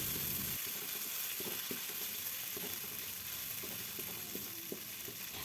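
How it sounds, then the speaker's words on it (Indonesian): Lemongrass, bay leaf, galangal and lime leaves stir-fried in a pan for a vegetable curry, giving a steady close sizzle with scattered scraping stirs and light clicks of a utensil throughout. "Masukkan juga daun serai, daun salam, lengkuas, dan juga daun jeruk. Kita tumis kembali."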